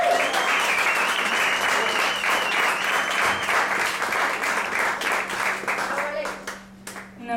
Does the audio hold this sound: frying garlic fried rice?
no